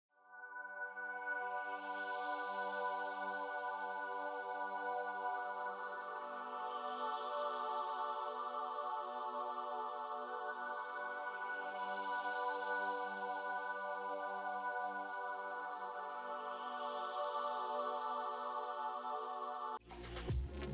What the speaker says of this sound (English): we're just basically left with this choir sound here